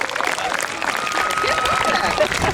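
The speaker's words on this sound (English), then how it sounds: "So I think that deserves a round of applause." An audience at a 999 emergency services day at Wicksteed Park applauds after a police dog demonstration, with steady outdoor clapping throughout and a whistle-like tone and voices mixed in.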